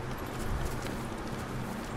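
Horse hooves clip-clopping in the samurai game Ghost of Tsushima, a steady fast patter of hoofbeats at moderate loudness, blended into a dense, noisy ambient background.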